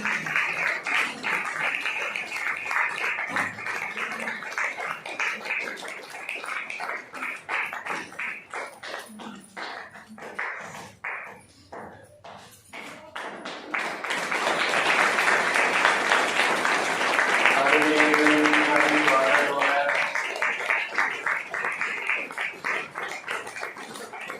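Audience applause at a Diwali celebration gathering: dense, steady clapping from a crowd that swells louder partway through, with brief tonal sounds near the end.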